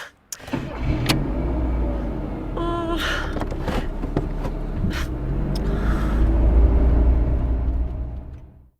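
A car engine cranks and starts at the beginning of a driving practical test, then settles into a steady, close low rumble of idling that keeps running for several seconds before cutting off.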